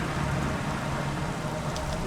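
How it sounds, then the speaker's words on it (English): Steady, even rain falls in a video game dimension, a close, continuous hiss with no pauses. "So this place is nice and rainy too."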